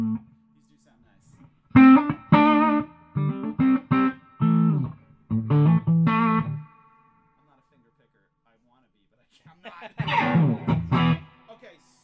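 Ibanez Roadstar II electric guitar with restored vintage pickups, strummed in short chords and single notes through an effects chain, stopping and restarting with a quiet gap before a final burst.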